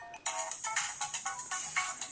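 Phone ringtone named Funk, a bright, pulsing electronic melody playing steadily and fairly loud with a rhythmic beat, heard alone.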